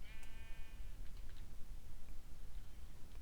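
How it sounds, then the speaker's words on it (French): Sheep bleating in a Minecraft-style video game, one clear wavering bleat near the start over a noisy, rumbling game background. "Bon, il y a plein de moutons ici."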